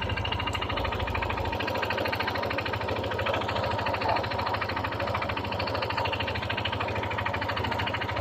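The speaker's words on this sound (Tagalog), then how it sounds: "Ito po ang tunog ng kanyang makina, guys, ha?" A Yamaha NMAX 155 scooter engine runs steadily before its bearings are replaced, giving a constant, fast, rattling mechanical hum with a helicopter-like chop, close and unbroken throughout, with no voices.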